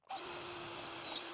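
A power drill pre-drills into MDF with a steady, high whine that starts abruptly and holds at constant speed for over a second, close and alone without talk.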